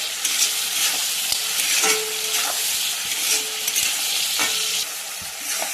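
Tomatoes fry with a steady sizzle in a pan, joined by a few brief scraping stirs and light clinks. The sizzle stays close and even throughout, and nobody speaks.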